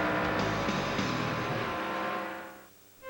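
NASCAR Cup Series cars roar past at Charlotte Motor Speedway during an October 2003 night race, a loud sustained engine drone that fades away near the end before rising again.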